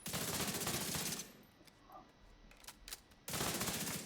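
Video game gunfire at a shooting range, two dense bursts of rapid automatic shots at the start and end, with a quieter gap between holding a few faint clicks.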